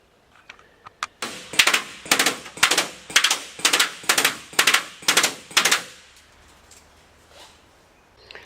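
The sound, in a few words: airsoft gun shooting at the sides of a field build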